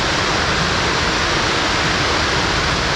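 Powerful waterfall near Vancouver, Canada, with heavy spring flow, a loud, continuous, even roar of rushing water filling the whole stretch, close by and without voices.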